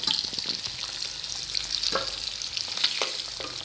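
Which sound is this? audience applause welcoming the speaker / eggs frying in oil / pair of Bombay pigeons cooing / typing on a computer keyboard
eggs frying in oil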